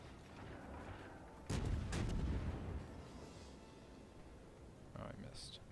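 Naval guns fire in World of Warships: one heavy, booming salvo about a third of the way in, with a deep rumbling tail that fades out under a steady background and a speaking voice.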